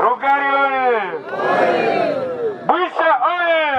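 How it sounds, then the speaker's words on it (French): A large, enthusiastic crowd at an outdoor public gathering shouts and chants together, with loud, rising and falling collective cries that pause briefly and then resume in strong waves. "Devant une foule enthousiaste, venue lui rendre un accueil chaleureux"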